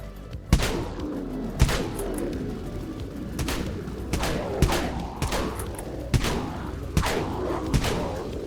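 Dual Broncos shotguns fire in Dead Frontier, about nine sharp, heavy blasts spaced roughly a second apart, each loud and punchy over a low ambient game background.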